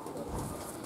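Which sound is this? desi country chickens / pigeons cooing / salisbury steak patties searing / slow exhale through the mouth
pigeons cooing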